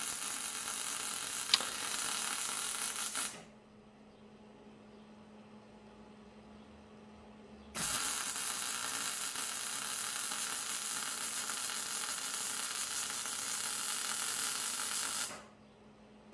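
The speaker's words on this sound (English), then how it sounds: "Welding the bottom of the pin." Steel loading pin being welded at its bottom, a steady crackling hiss that runs for several seconds, stops for a few seconds of near quiet, then resumes for another long stretch before cutting off.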